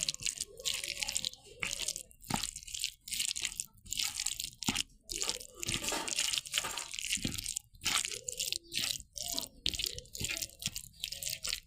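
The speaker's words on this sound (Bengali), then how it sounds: "এখন আমরা এটা ভালো করে এভাবে মিশিয়ে নেব" Hands mix dried jujube pickle with mustard oil in a bowl, making wet squishing and crunching bursts in an irregular rhythm, close up.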